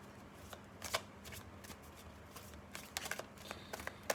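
Tarot cards are shuffled close by in soft, quiet riffling flurries, with brief pauses between bursts of papery flicking.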